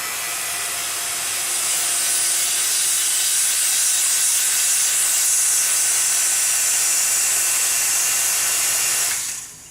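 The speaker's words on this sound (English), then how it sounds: "I could finally leave it at full vacuum, which is where it is right now." A vacuum pump and pot used for pen-making blanks run at full vacuum, giving a steady, loud, close hiss that holds evenly for nearly ten seconds before cutting off abruptly.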